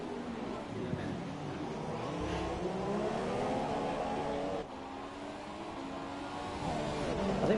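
Race cars in F1 2017 battle around Singapore, engines whining and shifting through rising and falling pitch sweeps in a continuous drone, with a brief drop before revving resumes; a voice is faintly present underneath.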